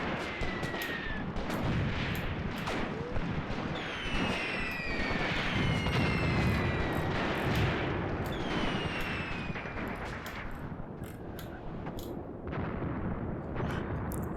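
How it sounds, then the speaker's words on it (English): Artillery fire in the Graviteam Tactics war game: a steady, dense barrage of booms and cracks goes on throughout, with whistling shells streaking over the din. "But this artillery's going to hopefully keep these guys pinned back."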